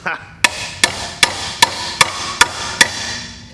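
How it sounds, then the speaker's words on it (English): Claw hammer tapping a nail into wood, eight sharp evenly spaced strikes in a steady rhythm, close and loud, each blow ringing briefly before the next. "just tap until it's there"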